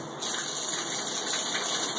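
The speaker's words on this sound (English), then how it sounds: "That's the water running." Bath water gushes from the tap into a tub, a loud, steady, close rushing hiss that starts abruptly and runs on without talk.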